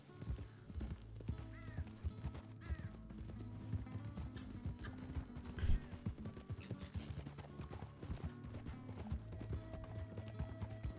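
Horse hooves clip-clop steadily in a RedM roleplay game set in the Old West, a continuous rhythmic trot under ambient game sound with an occasional whinny.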